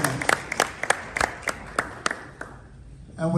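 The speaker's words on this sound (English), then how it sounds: "Please, a round of applause for her." An audience at a Ghana–Czech diplomatic gathering gives a short round of applause for an ambassador. Scattered claps from a small crowd fade quickly, and a voice starts to speak at the very end.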